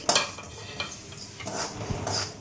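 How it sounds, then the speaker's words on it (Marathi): Sesame seeds dry-roasting in a pan while a spoon stirs them, producing soft scraping and rustling strokes with light clinks over a faint background crackle, close by. "हे थोडेसे तीळ भाजून घ्यायचे."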